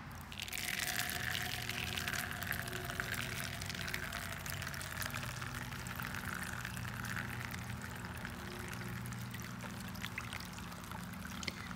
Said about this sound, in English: I'm going to rinse until no more blue cyanotype solution is washing off.